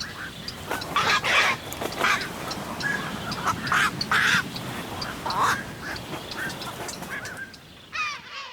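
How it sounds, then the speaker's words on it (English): Night heron nestlings calling from a colony on a Ukrainian meadow island, a busy chorus of repeated harsh, squawking cries that overlap continuously, some close and loud, others farther off, against constant rustling background noise. "The nestlings of the night herons designate their location with their own distinctive"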